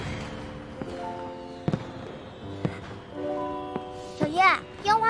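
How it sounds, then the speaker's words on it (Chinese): Fireworks pop and burst several times at night during a Chinese period drama, with children's voices and soft music underneath. "我即刻命人把这烟花停下。"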